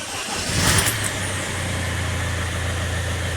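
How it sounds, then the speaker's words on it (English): A Mercedes Vito van engine, after a starter-circuit fault was fixed, catches with a brief rising rev and then settles into a steady, close, continuous idle hum. "I'm going to start the car. Ignition on."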